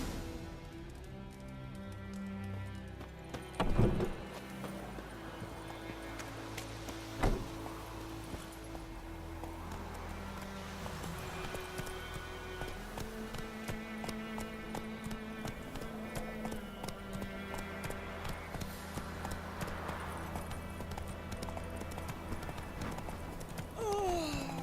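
The horse Roach gallops in a video game, with steady, rhythmic hoofbeats continuing throughout over a backdrop of game music and ambience, plus a couple of louder thumps early on.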